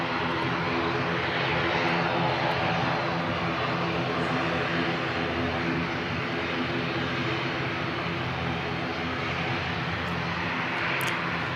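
A propeller airliner's engines snarl with a steady, loud buzzsaw drone at Christchurch Airport, sustained and unbroken throughout with no talking.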